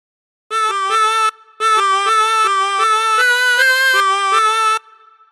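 Harmonica playing a melodic phrase, with bent notes: a loud, close run of sustained reedy tones, a short breath gap after the opening notes, then a longer continuous line ending abruptly.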